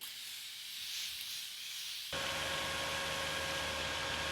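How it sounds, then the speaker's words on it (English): A short hiss of makeup setting spray starts faintly, then becomes a sharp, steady blast of aerosol close by. "But now I'm ready for some major setting spray."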